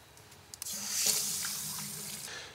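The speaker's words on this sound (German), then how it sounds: "auf meinen Eimer mache ich so knappe 30, 40 Milliliter einfach unten rein und fülle ihn dann ganz normal mit Wasser" A bucket fills with water from a tap for a car wash, a brief clatter and then a steady hiss of running water rising and holding, close and fairly quiet.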